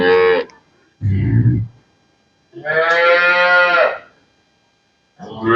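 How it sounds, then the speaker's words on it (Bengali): Several loud, close dairy cow moos, long drawn-out calls separated by short silences, one low and one higher-pitched. "এইগুলা গরু শোনেন"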